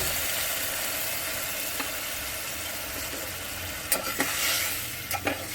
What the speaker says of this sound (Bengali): এবার এটার মধ্যে একটু জল দিয়ে এটাকে কষাতে দিয়ে দেবো